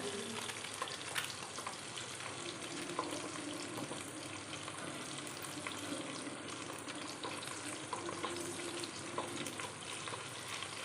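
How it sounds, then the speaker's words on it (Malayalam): Onions and vegetables frying in a pan for sambar give a steady, even sizzle with faint stirring clatter, continuous and close throughout, no voices. "ഉള്ളി നന്നായിട്ട് മൂത്ത് വന്നിട്ടുണ്ട് നമുക്ക് ഇതിനകത്തേക്ക് വെജിറ്റബിൾസ് ഓരോന്ന് ഇട്ട് കൊടുക്കാം"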